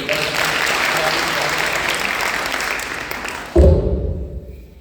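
Audience applause for a DAV school student's performance: steady, dense clapping from a crowd that fills the room, then cuts abruptly to a louder, duller rumble in the final second.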